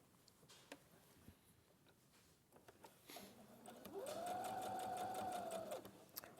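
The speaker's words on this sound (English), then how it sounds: "we're going to sew around this and just leave a little gap on this side to turn it through" A sewing machine stitches around a fabric panel, running in a steady, continuous whir for a couple of seconds after some quieter handling at the start, loud and close.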